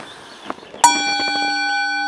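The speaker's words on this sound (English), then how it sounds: "remembering the sound of the gong" A gong is struck to open a morning meditation, a soft murmur of voices giving way to a single bright strike that rings on as a steady, sustained metallic tone, close and clear.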